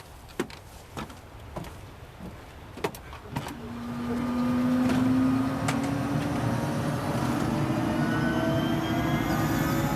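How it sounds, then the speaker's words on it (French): A helicopter flies over Kamchatka toward Lake Kurile, its engine drone swelling after a few sharp clicks and then holding steady and loud, with a rising whine running through it. "L'hélicoptère met le cap sur le lac Kouril, le camp de base du compteur de saumon."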